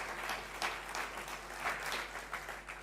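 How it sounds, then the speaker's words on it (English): Audience applause for a panel at a morning session of a remote-Australia conference, a steady, fairly quiet patter of clapping that holds for about three seconds with no voices over it. "we need to give a huge round of applause to this panel."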